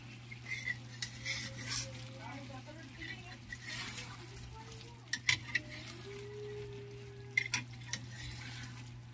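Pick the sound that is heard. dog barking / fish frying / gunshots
fish frying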